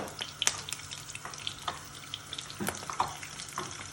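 Ginger garlic paste frying in a pan for prawn biryani, making a crackling sizzle broken by scraping stirs and small taps, close and alone.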